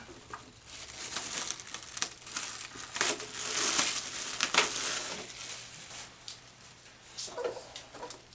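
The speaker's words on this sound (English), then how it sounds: "Let's get this plastic off here." Plastic wrapping being pulled off a Redcat Gen 7 RC car during unboxing: steady close crinkling and crackling that swells in the middle and tapers off, with no talking.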